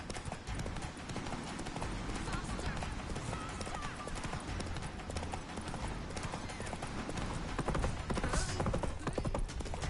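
Roach, a horse in The Witcher 3, gallops with rapid, rhythmic hoofbeats that run close and loud throughout, swelling slightly near the end.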